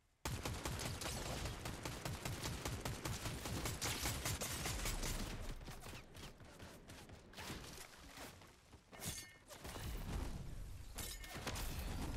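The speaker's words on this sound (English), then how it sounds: "You still fucking shooting at me?" Rapid gunfire in the Fortnite video game, dense bursts of automatic shots and single cracks crowding most of the stretch, loud and close, with a short lull midway before the shooting resumes.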